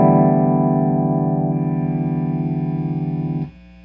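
A PRS SE Custom 24 electric guitar with its humbuckers coil-split rings out one sustained, distorted chord with audible hum. The chord holds steadily before cutting off abruptly near the end.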